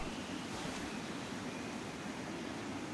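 Watery wash from Shadow of the Colossus, a steady broadband rush like surf or flowing water, continuous and even throughout with no voices over it.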